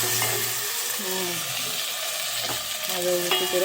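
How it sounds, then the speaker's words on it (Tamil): Ground onion and tomato paste hits a hot pan for fish kuzhambu and sizzles loudly and continuously, close up, with scraping and stirring noises mixed in and no speech. "வெங்காயம் தக்காளி அரைச்சி வச்சுருக்கோம். அதை ஊற்றிக்கிறோம்."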